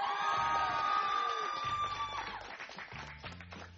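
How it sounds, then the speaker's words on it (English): Crowd applause and cheering greet a BMX rider at a Portland contest, a steady wash of clapping and whoops that holds loud for a few seconds and then thins out. "And let's give a big round of applause to BMX third icon, TJ Lavin."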